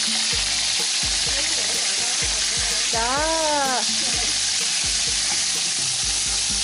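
Frog stir-fried with coconut milk and lá cách leaves sizzles loudly in a pan, steady frying with rhythmic scraping stir strokes, while a voice briefly speaks in the middle.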